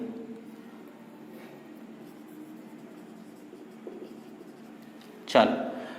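Pen or marker writing out a chemistry rate equation, a faint continuous scratchy scribble over room tone with a sharp tap or knock near the end.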